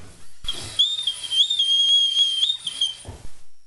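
A person whistles a wavering, breathy high tone for about three seconds, with a few clicks and breaths around it.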